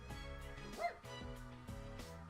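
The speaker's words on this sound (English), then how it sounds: "What's a dog doing here?" A dog barks and yips in the Persona 4 Arena Ultimax video game, a couple of short close barks standing out over the ongoing game music.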